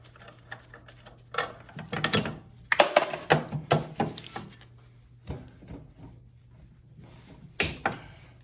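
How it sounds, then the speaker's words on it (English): Tools work on the brake caliper of a Polaris Rush snowmobile, giving a close series of irregular clicks, ratcheting and metallic clanks in short bursts, separated by quieter pauses. "I'll go ahead and remove the caliper again."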